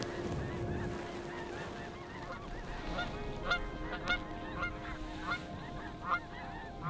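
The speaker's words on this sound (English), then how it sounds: "There's still a bunch of geese sitting on that shore over there" Geese honk from a pond shore in North Dakota, a loose chorus of nasal calls that sound fairly distant and faint, with scattered louder honks standing out over a low, steady background.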